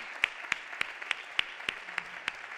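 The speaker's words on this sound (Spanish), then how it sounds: "podéis aplaudir, si queréis" Slow, evenly spaced claps at a restaurant marketing talk, about nine distinct hand claps in a steady rhythm, sparse and fairly quiet like a lone person or small group clapping.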